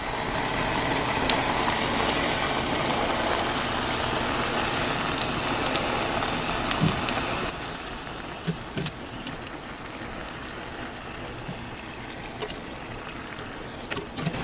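Oreos deep frying in hot oil give a steady, dense bubbling sizzle throughout, louder at first and then settling to a slightly softer, continuous crackle with occasional pops.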